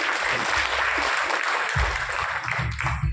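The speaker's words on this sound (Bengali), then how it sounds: "আমরা আমাদের মায়ের জন্য খুব বড় করে একটা ক্ল্যাপিং ছিল প্রত্যেকের মায়ের।" An audience at a banquet training event claps for their mothers, a dense burst of applause filling the room for a few seconds.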